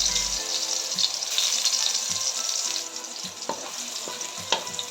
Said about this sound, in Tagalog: Pwede na natong isunod ang ato ang ahos sa paggisa.